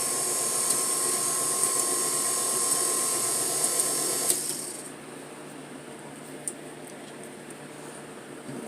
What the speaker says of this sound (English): We're going to turn this mixer on to low so these ingredients can start